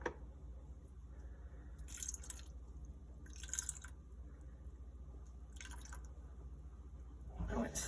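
Room-temperature water trickles and drips into a jar of sourdough starter made from rehydrated flakes in a quiet kitchen, as a few short faint pours separated by pauses.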